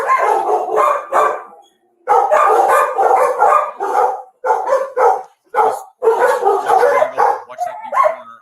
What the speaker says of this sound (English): all those labradoodles. You see them? A bunch of labradoodles.